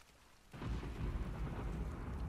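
Heavy rain and a rumbling roar swell in abruptly after half a second in Uncharted: The Lost Legacy, a steady, broad wash with no voices.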